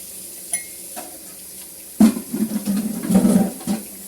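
A child washing dishes at a running tap, with a faint trickle of water and light clinks of dishes and utensils, then a louder splash and clatter in the second half.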